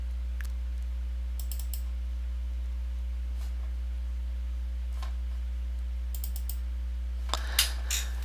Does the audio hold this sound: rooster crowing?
no